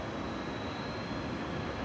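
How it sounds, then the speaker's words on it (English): A steady, loud broadband roar of a plane passing overhead fills the whole stretch without break, with no talk over it. "Is another plane coming?"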